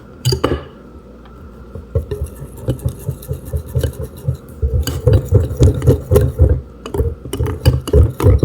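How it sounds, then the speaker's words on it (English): A utensil stirs thickening pancake batter in a bowl, giving a rhythmic series of soft scraping, squishing strokes with faint clinks against the dish, quickening and growing louder midway. "Stir it until it becomes thick, fine thick."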